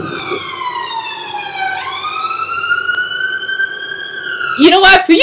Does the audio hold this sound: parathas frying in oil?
no